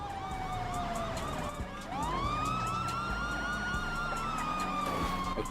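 Police sirens in a GTA roleplay game: several wailing sirens overlap, one sweeping down then rising again into a long steady tone, fairly loud against a background of vehicle noise.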